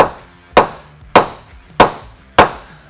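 A center punch is struck four times with a hammer to dent a crater before drilling for a Ford F-150 Pro rack install. The sharp metallic taps are evenly spaced, close and loud, with no talking.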